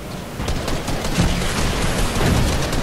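Dense, continuous automatic gunfire in a video game, loud and close, rattling without pause for the whole stretch.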